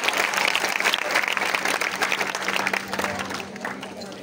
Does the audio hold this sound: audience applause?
yes